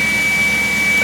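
A BMW 540i engine idles just after starting, a steady close drone with a constant high whine running through it, loud and unbroken with no talk.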